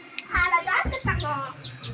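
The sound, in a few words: baby chicks chirping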